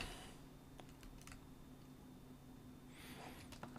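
Someone types on a computer keyboard while writing C++ code, with faint, irregular key clicks in short bursts and pauses and no voices.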